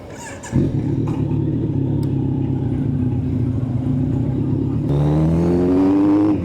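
A Kawasaki Z900 motorcycle roars on a highway, engine droning steadily after a sharp start, then revving higher toward the end with rising pitch; loud and close, no voices.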